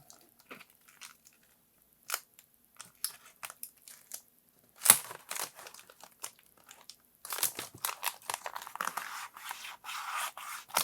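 Vinyl wrap film trimmed on car interior trim pieces, a close, quiet series of sparse crinkles, crisp snips and scrapes with silent gaps, growing busier toward the end.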